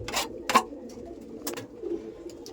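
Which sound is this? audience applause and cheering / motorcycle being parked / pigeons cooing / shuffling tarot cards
pigeons cooing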